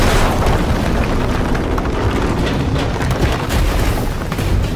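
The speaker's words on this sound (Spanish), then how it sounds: "Hay ahí una explosión" A loud, sustained explosion in the horror video game The Evil Within 2: a dense, rumbling roar that fills the whole clip without letting up, with no talk over it.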